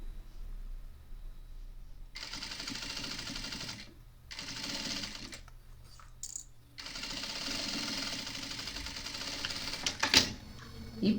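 A sewing machine backstitches a tote bag in rapid mechanical bursts, stopping and restarting several times, close and fairly steady, with a brief clatter near the end.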